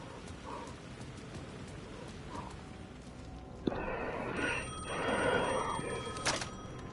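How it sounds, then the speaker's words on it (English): A telephone rings in the video game Alan Wake 2, a bright electronic ring that comes in partway through over a steady rain-like hiss. It is moderately loud, with no talking. "The phone was ringing again."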